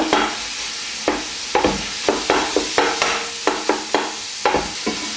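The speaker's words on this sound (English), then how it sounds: "So stick the minced beef in the hot oil." Minced beef fries in hot olive oil while being stirred: a sizzle cut through by regular scraping strokes, about two or three per second, close and clear with no voices.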